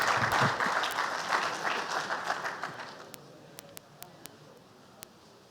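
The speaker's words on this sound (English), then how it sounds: "Please a round of applause for him as he comes forward." Audience at an infrastructure development forum applauds Engineer Kashim Abdul Ali with dense, steady clapping that fades after about three seconds, leaving a few sharp isolated claps and clicks in a quiet room.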